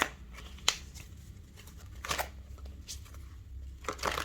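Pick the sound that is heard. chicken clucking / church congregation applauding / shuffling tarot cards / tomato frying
shuffling tarot cards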